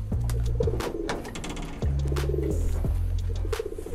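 Caged doves or pigeons, a newly paired couple, coo repeatedly in close, loud, rhythmic calls that overlap and fill the space.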